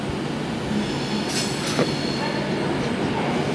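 A Pendolino train rolls through Euston Station in a steady broadband roar, with a brief high wheel squeal midway and faint clattering over the rails.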